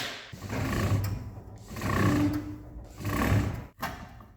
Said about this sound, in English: let me crank this back up and roll that over again